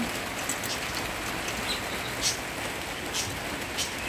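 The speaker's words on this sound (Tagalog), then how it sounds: "Malakas ang ulan." Steady, dense rain hiss fills the whole stretch on a rainy morning in the Netherlands, with a few sharper drops spattering on a surface now and then; no voices.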